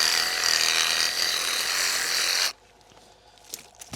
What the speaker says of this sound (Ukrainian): Велику гілку сучкоріс цей не ріже, а пилочкою